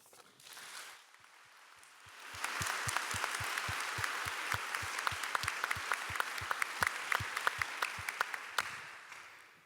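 Live audience applause at an evening literary event, starting as scattered claps then swelling into a sustained, dense round of clapping with sharp individual claps standing out near the end.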